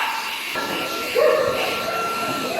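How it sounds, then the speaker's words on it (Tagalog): Steady whooshing vacuum cleaner drone close by, removing cat fur, with brief fluctuations in pitch as it moves, and faint background voices. "gagamit tayo ng vacuum para matanggal yung mga balahibo ng pusa"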